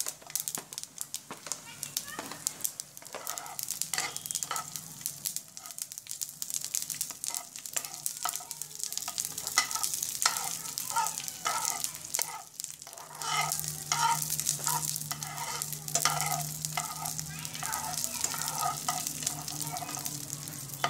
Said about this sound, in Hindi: अब मैं इसमें डाल देती हूँ किशमिश